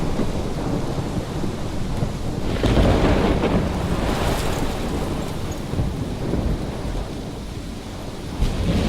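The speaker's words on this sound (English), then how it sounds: "This is my storm." Heavy rain hisses steadily in a stormy scene from Life Is Strange, with a rolling thunder crash swelling around the middle and wind washing through the dense, loud downpour.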